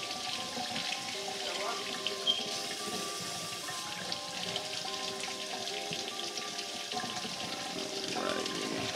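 Lukewarm water runs steadily from a kitchen tap into a sink, a continuous close splashing hiss with small clinks, moderately loud and unbroken.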